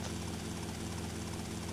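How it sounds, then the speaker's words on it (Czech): A helicopter flying nearby gives a steady, close rotor drone with a faint pulsing beat throughout a brief stretch, and no voices are heard. "Helikoptéry."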